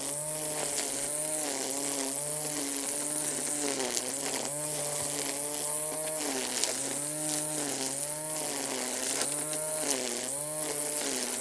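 RYOBI One+ 18V 10-inch cordless trimmer/edger running for edging, a continuous high whine with repeated rising and falling pitch swoops as it cuts, steady and fairly close throughout.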